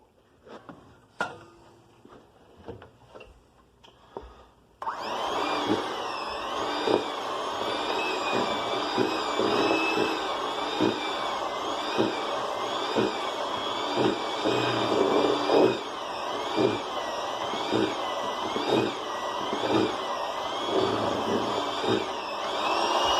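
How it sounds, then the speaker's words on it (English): After a few seconds of quiet clatter, a stand mixer mixing cookie dough switches to high speed and runs loud and steady with a rhythmic churning hum for the rest of the stretch, no talking. "free up as much of this stuff in my mixer as I can. Turn on the high."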